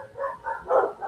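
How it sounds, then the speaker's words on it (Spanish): Neighbours' dogs barking outside during an indoor class session, three muffled, somewhat distant barks in a row with brief gaps between them. "Disculpen afuera, los perros vecinos que están ladrándole algo"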